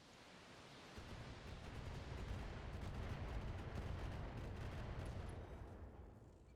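Mech weapons firing in the Battletech video game, a sudden dense roaring barrage that starts abruptly and holds as a loud sustained rumble before slowly easing off.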